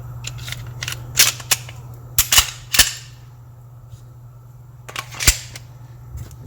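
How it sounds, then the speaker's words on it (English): Metal clicks and snaps as the slide of a Glock 17 Gen 5 pistol is put back on during reassembly, several sharp, close clicks in short clusters over a low steady hum, with no talking. "We'll put the slide back on."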